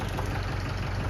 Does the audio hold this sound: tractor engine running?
yes